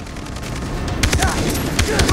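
Gunshots in the Far Cry 3 video game, starting after a short quieter stretch and then coming as a series of sharp, closely spaced shots, with faint voices underneath.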